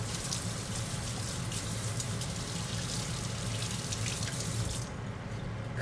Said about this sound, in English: Let's run them under some water.